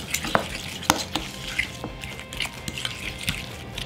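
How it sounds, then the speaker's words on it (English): Chives and bacon being folded into a deviled egg filling, a soft wet stirring and squishing with occasional light clicks of a utensil against the bowl, close and steady. "We're just gonna fold this in until it's thoroughly mixed."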